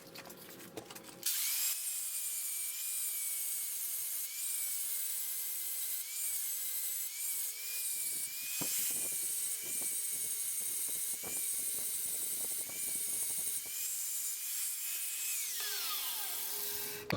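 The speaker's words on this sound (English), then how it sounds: "I'm going to go ahead and bevel these edges." A power grinder bevels the edges of a steel gate piece ahead of welding, a loud, sustained high whine that starts after a short spin-up, roughens into grinding contact in the middle and winds down at the end.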